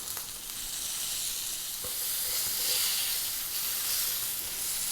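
A bone-in 29oz rib eye steak searing in an extremely hot pan gives a loud, steady sizzle and hiss, with a few small pops and taps from moving the meat, no talk.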